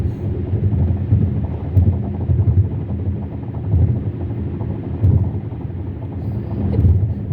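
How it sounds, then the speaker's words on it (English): Road noise from the tires of a moving car heard from inside the cabin, a steady loud low rumble with a slow rhythmic thumping swell, continuous throughout with no voices. "Sounds like a flat tire. That's actually the road."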